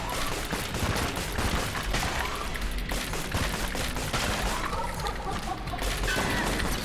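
Dense, continuous gunfire and bullet bursts from the video game Enter the Gungeon, a loud rapid barrage with crashing impacts running the whole stretch without pause.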